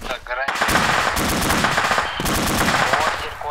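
Loud, continuous automatic gunfire in ArmA 2 with the ACE mod, rapid rattling bursts almost without pause, briefly dropping off before resuming with more firing.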